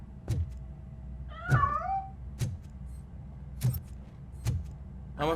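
A cat meows in the RoboCop: Rogue City video game, with two clear rising-falling cries set among regular heavy metallic footsteps, with no speech.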